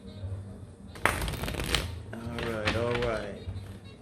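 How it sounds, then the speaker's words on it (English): Tarot cards shuffled by hand in a couple of bursts of riffling, crisp papery flutters close by, with soft speech and background music underneath. "We'll give a couple shuffles"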